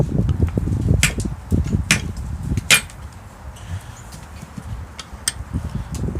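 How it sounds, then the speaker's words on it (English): A ball peen hammer strikes a lamellar armor plate held in a vise, giving a few sharp metallic impacts spaced about a second apart over low rumbling handling noise. "I'm going to take a ball peen hammer, and first I'm going to hit it a couple times"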